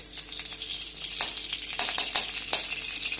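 A spoonful of desi ghee goes into a hot kadhai and sizzles with a bright, crackling hiss broken by small spits and pops, close and fairly loud.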